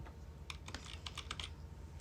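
Computer keyboard keys clicking loudly in a brief burst of typing, several sharp close keystrokes over a low background hum.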